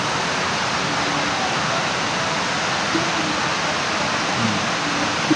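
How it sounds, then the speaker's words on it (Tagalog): Rain during Typhoon Carina pours in a dense, steady wash of noise, loud and unbroken throughout, with a few faint low sounds underneath. "Pambihira, ulan na nga."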